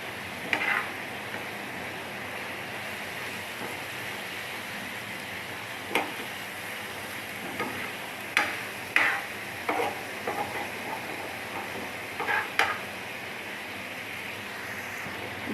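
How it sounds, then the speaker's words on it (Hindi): Chicken boti pieces fry on a tawa over a medium flame for a Ramzan tawa boti dish, giving a steady soft sizzle with scattered sharp scrapes and stirring clicks, close and alone without talk. "मीडियम फ्लेम पे हम इसको फ्राई करेंगे"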